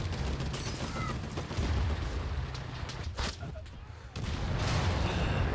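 Mortar fire in the WWII shooter Enlisted: a steady rumble of distant shelling and gunfire with a few sharper blasts, sitting low and fairly quiet with no talk over it.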